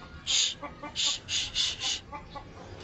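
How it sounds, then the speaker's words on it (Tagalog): A chicken clucks close by in a quick series of sharp bursts, then grows quieter against a soft outdoor background. "Manok nandun sa taas. Lumipad dun."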